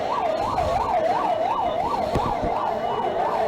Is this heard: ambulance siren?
yes